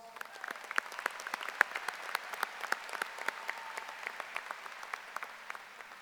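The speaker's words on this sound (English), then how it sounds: "Let's give them a round of applause" Applause from a high school graduation audience honoring faculty representatives, steady dense clapping with sharp individual claps popping out, continuing throughout.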